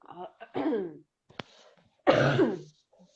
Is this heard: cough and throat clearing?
yes